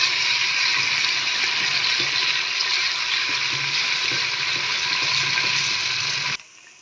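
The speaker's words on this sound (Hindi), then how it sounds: "लहसुन अदरक को 1 मिनट फ्राई करने के बाद मैं शामिल कर दूँगी इसमें चिकन।" Garlic ginger paste frying with light golden onions for a dal chicken dish, a loud, steady, close hiss of sizzling that runs evenly and then cuts off abruptly near the end, with no talking.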